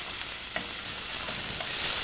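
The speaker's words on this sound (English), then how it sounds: "We're going to sweat them down." Finely diced onions sweat in olive oil in a pan, producing an even, soft sizzling hiss with a couple of faint stirring taps.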